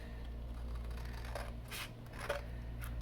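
Scissors snip around the edge of a paper greeting card, a few quiet crisp cuts and rustles close by, faint against a steady low background hum.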